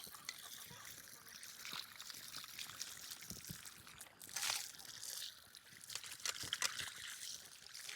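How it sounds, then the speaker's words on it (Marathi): Water pouring and splashing while a mango and hands are rinsed, a steady faint trickle with soft sloshing and a few louder splashes, recorded outdoors at low level. "आता ह्याला धुवून घेते आणि मी पण हात धुवून घेते"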